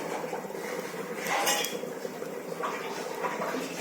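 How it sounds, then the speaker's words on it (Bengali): A small iron wok set down on a stove gives a brief metallic clatter of cookware near the middle, against a steady kitchen background with no talking. "বন্ধুরা আমি কড়াই চাপিয়ে দিয়েছি এই দেখুন এই ছোট্ট লোহার কড়াইটাতেই আমি এই পকোড়াগুলো করে থাকি"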